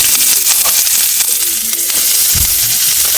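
Onions drop into hot oil in a pan for tomato rasam, setting off a loud, close, steady sizzling hiss with a few crackles and no talk.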